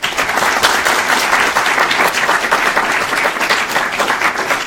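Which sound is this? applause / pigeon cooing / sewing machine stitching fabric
applause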